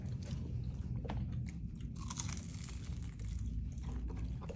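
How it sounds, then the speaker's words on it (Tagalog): Close, loud crunchy biting and chewing on a crispy fried cheesy shrimp dynamite spring roll, steady crackling mouth sounds with no talking. "isa pang kagat"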